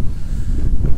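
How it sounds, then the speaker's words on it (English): Wind buffets a microphone outdoors in a churchyard, a steady low rumbling roar that fills the whole second with gusty swells. "Sorry about the wind"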